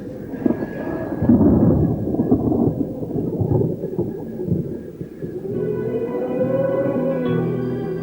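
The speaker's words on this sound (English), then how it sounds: "The weather then takes a turn for the worse, and the threat of lightning temporarily clears the summit." Thunder rolls in long, deep rumbles over a mountain summit during a storm, loud and close, then gives way to a steadier low roar with faint tonal hum.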